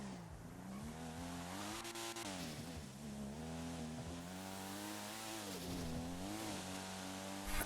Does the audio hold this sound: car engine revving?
yes